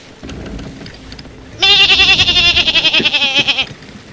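A person imitates a dying sheep with a loud, long, wavering bleat that quavers for about two seconds, close to the microphone, following quieter background chatter during an online game session.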